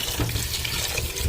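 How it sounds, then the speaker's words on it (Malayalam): Water runs from an open tap over tapioca being washed, a steady close splashing rush lasting only a moment. "പൈപ്പ് തുറന്ന് നല്ലോണം ഇത് കഴുകിയെടുക്കുക"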